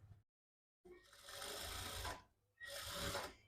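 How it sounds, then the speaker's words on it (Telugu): Sewing machine stitching a blouse piece, attaching it along an existing seam: two loud bursts of rapid, steady machine stitching after a short silence, with a brief pause between runs. "ఇదే కుట్టు పైన కుట్టుబడేలాగా ఈ పీస్ని అటాచ్ చేసేసుకుందాం"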